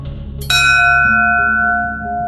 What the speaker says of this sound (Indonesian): Ngebel ini atau lonceng ini, coba kita ngebel dulu ya.